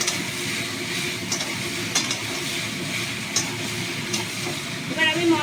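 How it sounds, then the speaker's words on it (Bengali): Prawns with taro, eggplant and spices are stirred in a pan, a soft continuous sizzle broken by scraping strokes of the spoon and a few light clinks. "কচু বেগুন চিংড়ি মাছ সব একসঙ্গে দিয়ে দিই মশলা দিয়ে কষবো"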